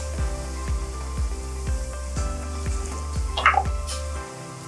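Paneer butter masala base sautéing in a pan: a regular series of soft knocks from the spoon against the pan over a low hum and faint sizzle, ending with a brief louder scrape.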